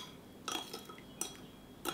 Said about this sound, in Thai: คนผสมให้เครื่องปรุงทุกอย่างละลายเข้ากันดีเลยนะครับ